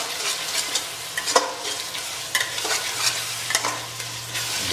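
A spoon scrapes and stirs through onions frying with a splash of water in a pan for a white mutton korma. Irregular scraping strokes sound over a steady, gentle sizzle, close by, with no talking.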